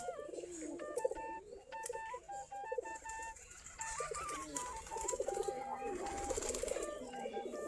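Native Giribaj pigeons coo softly in a loft at dusk, overlapping low rolling coos rising and falling under scattered sharper chirps and occasional wing flutters, fairly quiet and close by.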